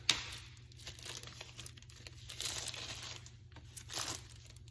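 Plastic cover being peeled off a battery electrolyte container for an ATV battery, quiet close crinkling and tearing in short irregular bursts.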